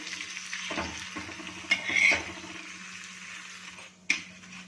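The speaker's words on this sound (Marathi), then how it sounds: "आपली मुगाची डाळ तव्यात घालून झाली की ती आलटून पलटून छान अशी क्रिस्पी करून घ्यायची" Moong dal is stirred and fried on a griddle until crisp, with a soft steady sizzle, a low hum and a few sharper scraping strokes of the spatula.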